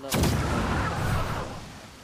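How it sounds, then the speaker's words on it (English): A ship's cannon in the pirate video game Sea of Thieves fires one sharp, loud boom that rolls into a rumbling tail lasting about two seconds. "I want to shoot myself up with a cannon"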